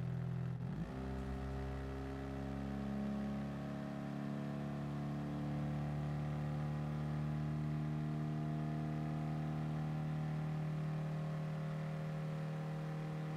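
A car engine accelerates under load after a shift into third gear, with a steady droning hum and slowly rising engine tones, heard from inside the cabin with no talk.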